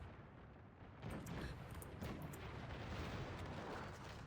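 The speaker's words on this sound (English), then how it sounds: "Howitzers going off" Howitzer artillery fire in the Napoleonic battle game Field Command Napoleon: a rumbling onset followed by several muffled distant booms layered over a continuous low battle roar, fairly quiet overall, with no speech.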